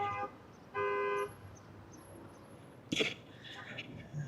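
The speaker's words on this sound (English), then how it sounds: "Alarms going off every morning." Short horn-like alarm toots sound outside in Los Angeles, two brief tonal blasts followed by a sharp burst of noise, with faint background sounds.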